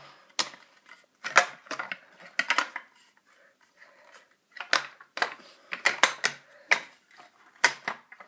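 A trigger guard is worked into the receiver of a JG BAR10 airsoft rifle, giving a run of sharp plastic clicks and rattling taps in irregular bursts, close and alone.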